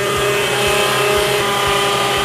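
A kitchen machine whips cream with a pinch of salt at speed 2, heading toward homemade butter: a loud, steady motor whir with a faint rhythmic thump repeating about twice a second, with no talk over it.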